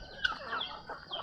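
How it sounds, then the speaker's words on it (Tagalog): Several chickens clucking nearby, a quick run of short, slightly squawky calls close to the listener. "Manok."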